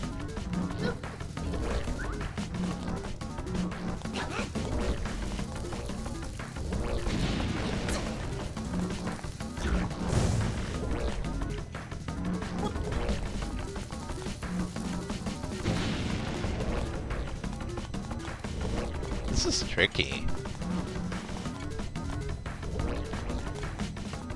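Bombs blowing up in the Zelda game Link's Awakening, a string of sharp crunching blasts scattered over a steady busy backdrop of game music and effects, with no talking.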